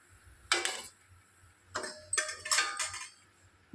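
Gulab jamun balls being dropped into a pan, giving several soft clinks and light splashes in separate bursts. The scrapes between them are quiet and close.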